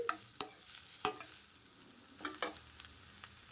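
Jackfruit seed curry with turmeric is mixed in a pan. Faint, sparse spatula taps and scrapes sit over a low, soft sizzle, and no one speaks.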